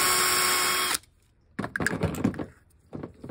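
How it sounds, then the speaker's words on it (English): A power drill bores a hole during an inverter and solar panel install in a Honda Element, giving a loud, bright whir for about a second before stopping, followed by quieter clatter and handling noises. "so let's drill a hole through this guy."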